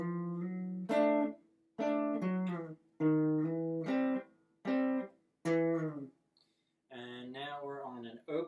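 An electric or acoustic guitar plays the Sweet Home Alabama intro riff, a series of plucked note groups in a steady rhythm, close and clear, with brief gaps between phrases and a short spoken bit near the end.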